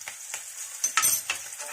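Ginger and garlic sizzle in hot oil in a pan, a steady close crackle broken by a few sharper pops and brief stirring scrapes.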